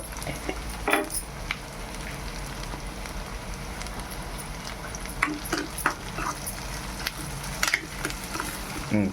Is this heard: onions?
yes